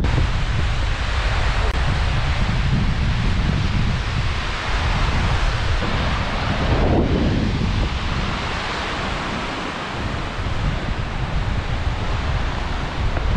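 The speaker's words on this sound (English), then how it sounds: "This is the waterfall." A waterfall in Iceland gives a steady, broad roar of rushing water, mixed with wind buffeting the microphone, holding level for the whole stretch with no talk.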